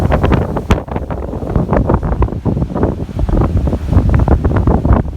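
Strong seaside wind at Sanary, France buffets the microphone in loud, continuous gusts, with a rushing roar that sounds like open water or surf nearby.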